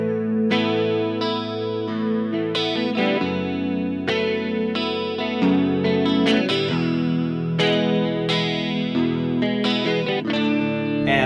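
Electric guitar played through a digital effects board with heavy effects, chorus shimmer and distortion, strumming chords and riffs continuously at a steady, loud level.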